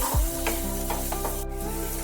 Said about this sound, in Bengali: ভালোভাবে তেলের সাথে তিনটে সবজিকেই নাড়িয়ে চাড়িয়ে নিতে হবে আর একটু ভেজে ভেজে নিতে হবে।